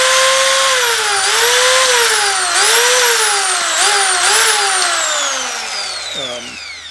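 A Rockwell 4 1/2 inch compact circular saw with a cast aluminum housing and steel plate runs alone. Its loud, steady high motor whine dips in pitch and recovers several times before winding down at the end.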